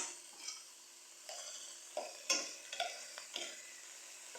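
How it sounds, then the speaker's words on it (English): Ground beef sizzles softly in a pan while a utensil stirs and scrapes it in several short, close strokes, with no talking. "Then I'll add my beef."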